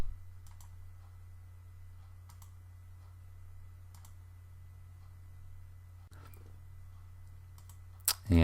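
A computer mouse clicks while graphics files are selected and opened in design software. A few faint, sparse clicks sit over a steady low hum, ending with a sharper burst.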